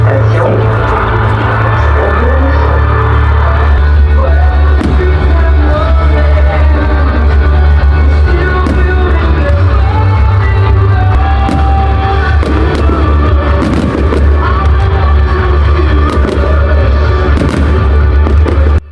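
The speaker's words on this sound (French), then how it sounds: "ils ont fait des feux d'artifice pour les trams" Bastille Day fireworks over Montpellier's tram stations, a loud continuous barrage of bangs and crackles with a crowd cheering and shouting, and occasional voices.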